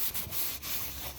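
Hand sanding on a boat's deck near the toe rails, a soft rhythmic rubbing of abrasive on wood, strokes rising and falling in a slow back-and-forth pattern, close but fairly quiet.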